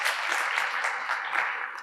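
An audience at a workforce report event breaks into a short, dense burst of applause that fills the room briefly and then begins to fade.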